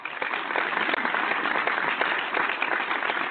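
Applause on a talk radio show, a dense, even wash of clapping held at steady volume throughout, sounding somewhat muffled and narrow as if over a broadcast line.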